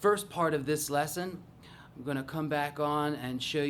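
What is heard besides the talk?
No distinct noise like a dog, phone or traffic.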